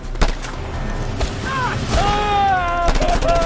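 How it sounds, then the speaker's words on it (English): Gunfire from the open-world action game Just Cause 2, with several sharp shots cracking over a dense, busy game soundscape and rising whistling tones in the background, with voices in the mix. "Somebody's shooting."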